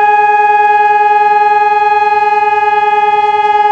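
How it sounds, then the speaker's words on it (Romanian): Civil defense disaster alarm siren sounding in Mehedinți during a nationwide warning test, a loud sustained steady tone with a slight regular pulsing wobble, heard alone without talk. "Sirenele au emis semnalul alarmă la dezastre"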